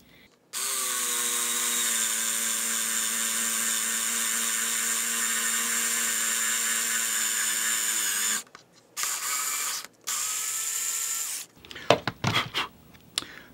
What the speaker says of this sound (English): let's go ahead and drill the hole here